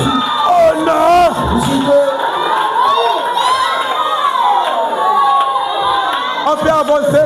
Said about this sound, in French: Les cris de joie à Jésus.